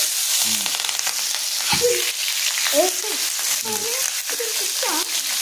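Cumin seeds and chilies sizzle steadily in hot oil in a pan, a constant close frying hiss with a voice talking over it.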